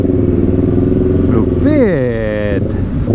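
A Suzuki Raider 150 Fi motorcycle engine idles with a steady throb, then is revved up sharply and eases back down, loud and close, with a voice briefly over it.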